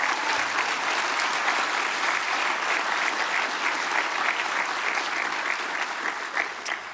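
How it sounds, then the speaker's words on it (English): Sustained, dense applause from a graduation ceremony audience, steady and full throughout, tapering slightly at the end. "the applause is about to come"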